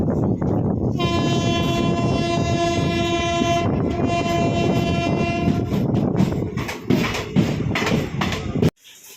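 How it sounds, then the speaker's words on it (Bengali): Long-distance train pulling out of Gangarampur station bound for Kolkata on a cold night: a loud sustained horn blast over continuous rumbling and rattling of the carriages, which keeps on after the horn stops. "ট্রেন ছেড়ে দিয়েছে।"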